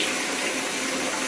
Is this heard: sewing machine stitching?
no